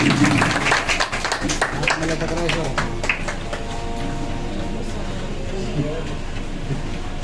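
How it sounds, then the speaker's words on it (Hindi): Applause at an Independence Day celebration held by a community committee in Sevanagar, Ghaziabad, welcoming a guest; a burst of clapping fades into a steady murmur of crowd noise with voices talking throughout. "तालियों से स्वागत करेंगे।"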